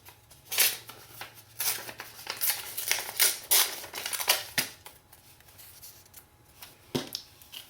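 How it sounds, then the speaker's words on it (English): Music paper is torn by hand in a series of short, crisp ripping bursts, close and fairly loud, in an irregular rhythm with brief pauses. "Then I'm going to tear a piece of my music paper here."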